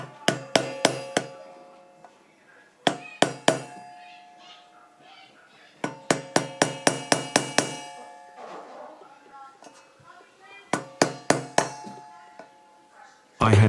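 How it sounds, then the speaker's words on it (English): Sharp metallic clangs of a small hammer tapping a screwdriver against a fixed metal hose clip on a propane LPG bottle, struck in quick bursts of several taps each, ringing briefly, with pauses between the groups and a faint voice in the background. "I will use screwdriver and small hammer"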